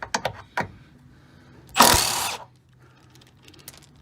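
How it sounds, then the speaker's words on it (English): A Milwaukee 3/8-inch stubby impact driver runs a 10mm bolt on a Jeep Wrangler JK door hinge: a few brief clicks and taps, then one loud, close half-second burst of rattling hammering, followed by quiet handling noises. "I'm gonna be using my 3/8 stubby impact Milwaukee to get them done."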